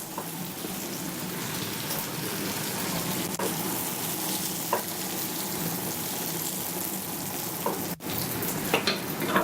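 Continuous sizzling of duck frying in a hot pan with marjoram, with occasional pops and faint clicks over the steady crackle.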